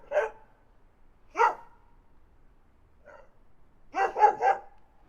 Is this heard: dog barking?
yes